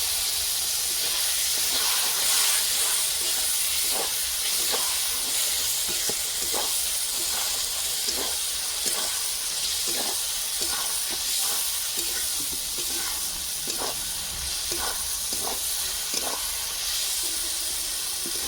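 Chicken masala with turmeric frying in a pan after a splash of water, giving a loud, continuous steamy hiss and sizzle with faint rhythmic stirring scrapes throughout, close up.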